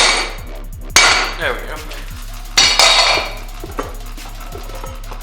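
Hammer whacks knock an intake manifold off a B20 engine during a teardown: two sharp metallic strikes with ringing clatter, close and loud, and someone speaks briefly.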